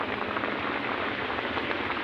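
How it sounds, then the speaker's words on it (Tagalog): Heavy rain pours down steadily in a dense, even hiss of drops on surfaces, loud and continuous with no voices. "Ang lakas ng ulan mga kagwang oh."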